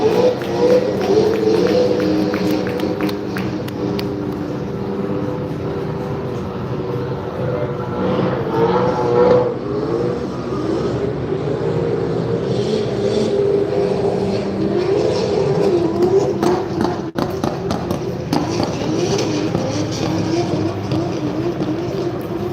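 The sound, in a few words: Driftworks AE86 drift car engine at Silverstone Japfest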